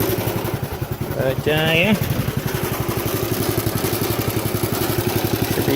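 A go-kart engine warms up and settles into a steady, close, chugging idle with an even putter. Someone speaks briefly over it near the start.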